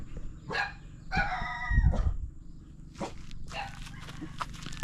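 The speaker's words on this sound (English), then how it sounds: "And there's nobody around except dogs." Dogs bark in short bursts near a coconut oil factory in Ben Tre, Vietnam, a few loud nearby calls followed by fainter barks, with low rumbling background noise and no talking.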